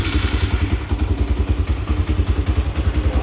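Honda 300EX ATV fitted with a new carburetor, idling steadily with a rhythmic, throbbing low-pitched putter and light mechanical clatter, close and alone.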